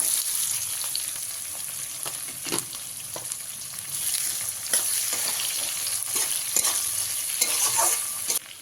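Two large onions, finely chopped, sizzle and fry steadily in a pan, with repeated scraping and stirring strokes throughout and no talking.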